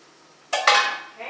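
Atlantic lobsters dropped into a steamer pot, two quick metallic clanks and rattles in close succession followed by a short fading hiss of steam, brief and close in an otherwise quiet kitchen.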